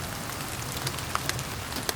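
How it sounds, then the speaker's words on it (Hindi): Light rain falls steadily at night near a village, making a dense, even patter on surfaces. A few slightly louder drops tap through the constant hiss. "टिपिर टिपिर बारिश थमने का नाम ही नहीं ले रही थी।"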